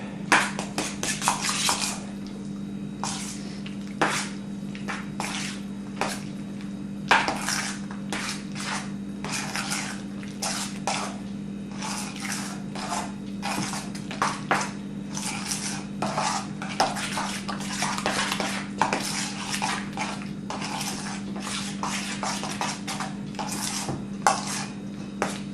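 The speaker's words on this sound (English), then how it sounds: "I'm going to stir that all up" A spoon scrapes and clinks against a dish while stirring a John Wayne casserole mixture of cheese and sour cream, with steady repeated strokes under a constant low hum.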